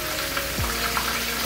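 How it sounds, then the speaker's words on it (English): Fish fries undisturbed in hot oil, a dense, even sizzle that stays close and steady throughout, with no voices. "which is why you want to just let it sit and cook by itself."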